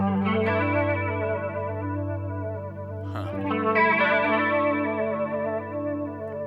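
Two PRS chorus modulation pedals run together on a sustained electric guitar, one slow and one more watery, their wobbling pitch sweeps clashing under a fresh strummed attack partway through, loud and steady with no talking.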